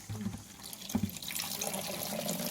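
Water splashes down in a steady, continuous rush like a small waterfall from a homemade carp-pond aeration device, close and fairly loud throughout with brief splashy bursts, no voices.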